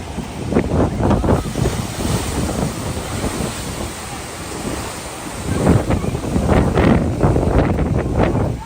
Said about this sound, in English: Massive storm waves slam violently into the shores